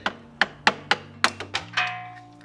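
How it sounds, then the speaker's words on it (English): A chisel struck repeatedly to knock out a broken plastic piece on a BMW F30 front axle output shaft, about seven sharp, close taps in quick uneven succession, then a brief ringing scrape. "so I'm just gonna chisel it out a little bit"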